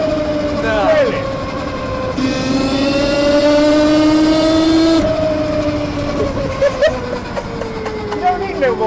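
A Citroen Ami, the small electric car, whines past at speed with a rising then falling electric motor tone, loud and close for a few seconds; people talk before and after it goes by.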